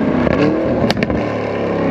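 A Lamborghini Urus Performante SUV with carbon-ceramic brakes, heard from close by as its loud engine drones steadily and a couple of sharp exhaust pops and crackles cut through.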